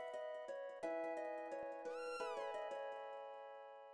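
A cat in Chrono Trigger meows once after being petted, its chiptune cry bending over a bright synthesized music loop of plucked notes, all clear and game-generated with no talk.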